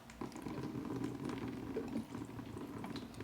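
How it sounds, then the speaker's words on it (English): Plain water poured from a watering can through a large potted orchid, a steady bubbling, gurgling flow that runs close and continuous for the whole stretch without pause, with no voices over it. "I will take my watering can and then I will pour water right through the pot"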